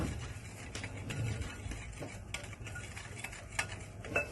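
A spoon stirs and mixes rice flour batter for Bangladeshi beguni in a bowl, making faint, irregular scraping taps and soft clinks at a low level without talking.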